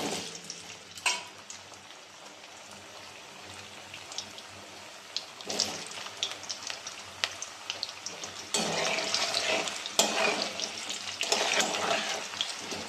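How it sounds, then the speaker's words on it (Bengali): Potatoes dropped into hot salted oil sizzle and crackle, quiet at first and then building to a steady, louder frying hiss with scattered pops. "তেলটা আমার গরম হয়ে গেছে, আমি আলুগুলো ছেড়ে দিচ্ছি।"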